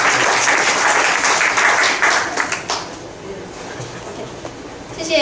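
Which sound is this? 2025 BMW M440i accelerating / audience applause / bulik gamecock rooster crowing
audience applause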